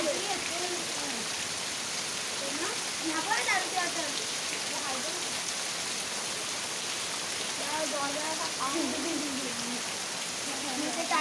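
Heavy rain pours in a flooded Dapoli village, Konkan, as a loud, unbroken wash of drops and running water, with faint voices and other sounds drifting in now and then.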